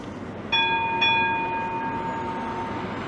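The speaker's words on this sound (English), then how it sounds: "the first person in history to get a video of a tram coming towards him" A street tram approaches along a seaside town promenade, a steady rumble under a sustained ringing tone, a bell-like ding near the start and a second strike a moment later, no talking.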